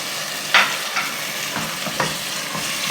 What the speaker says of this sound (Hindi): और थोड़ा सा इसे चला लूँगी ताकि जो गोश्त की स्मेल है वो ख़त्म हो जाए